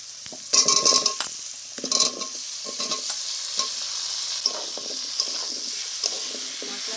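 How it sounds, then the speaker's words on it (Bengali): Chopped taro stems hit frying spices in a pan with a burst of sizzle, followed by brisk spatula scrapes and clinks against the pan over a softer continuous fry, close up. "এবার আমি কেটে রাখা কাঠি কচুগুলো দিয়ে দেবো"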